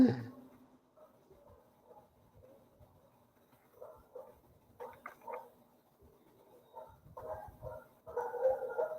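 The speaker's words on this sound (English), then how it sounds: "Freaking dogs." Dogs bark and yip in the background, faint at first and growing louder toward the end, with several short irregular barks and whimpers heard indoors at a distance.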